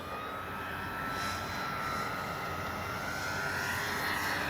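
A Dynam BF-109 radio-controlled warbird flies a tail slide, its motor and propeller giving a steady, fairly loud whine with a slowly shifting pitch over a constant rushing background, with no talking.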